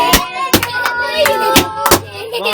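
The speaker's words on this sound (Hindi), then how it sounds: "ओए ताली बजाओ" Scattered hand claps at a birthday celebration on a rooftop floor, a handful of sharp, uneven smacks close by, spaced irregularly with brief gaps between them.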